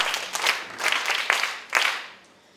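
Children at a book festival reading session clap for themselves in uneven bursts, several short swells of hand clapping that rise and fall rather than one steady round, fairly close with no talking.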